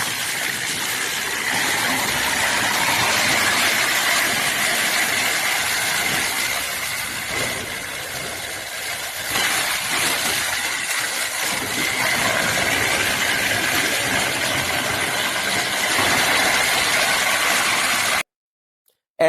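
A 55 kW disc wood chipper unit being loaded for shipment in Shandong, China, gives off a continuous loud mechanical roar and rumble at an even level for about eighteen seconds, then stops abruptly.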